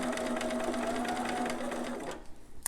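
A sewing machine runs steadily, stitching fabric for a newborn romper forward and then briefly in reverse for a back stitch, a loud close mechanical whir that stops near the end.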